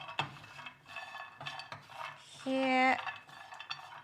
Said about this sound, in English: just mix it all up and make sure you just keep on stirring this way